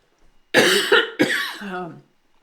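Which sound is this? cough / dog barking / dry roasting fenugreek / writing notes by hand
cough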